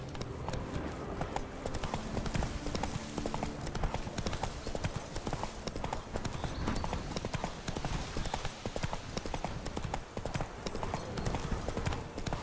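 Hooves of a galloping horse in The Witcher 3 pound in a fast, dense, continuous clip-clop rhythm, loud and close, with a brief whinny.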